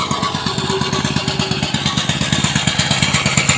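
A machine saws through steel reinforcing bars during house demolition work, giving a loud, steady, rapidly pulsing engine-driven grind that runs without a break from start to end.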